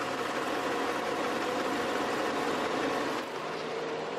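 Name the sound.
car engine idling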